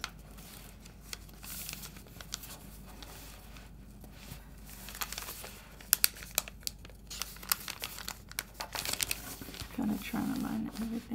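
Paper being folded and creased for a Star Wars Luke origami figure: close, soft crinkling and rustling in irregular bursts with a few sharper crackles, over quiet room tone.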